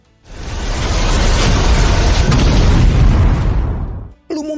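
A big fiery blast as blue and purple flames clash in a stadium, a loud sustained roaring explosion that rumbles for several seconds before cutting off abruptly.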